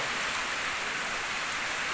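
Heavy rain pours steadily in a rural Gujarat village, a dense, even hiss of falling water that stays loud and unbroken throughout, with no voices over it.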